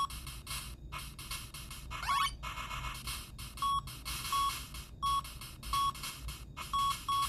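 Repeated electronic beeps in short bursts, some longer tones, over a steady busy PS2 game soundscape played on a Samsung Galaxy Tab A9+, with no talking.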